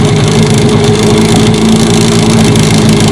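A Mikatsu 9.8 outboard boat motor on a new boat runs steadily from a cold start, a loud continuous engine drone with a low throbbing hum and no breaks, close by and without voices.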